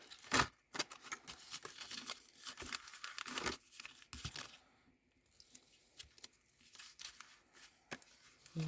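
Vellum for gift wrapping is handled and cut, giving close, dry crinkling and tearing rustles in uneven bursts with brief pauses.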